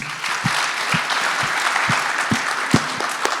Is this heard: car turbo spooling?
no